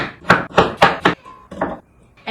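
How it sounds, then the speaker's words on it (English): A knife chops radish into little pieces on a cutting board, about six firm, close thuds in an uneven rhythm with short pauses between strokes. "Let's cut it in little pieces because we will blend it."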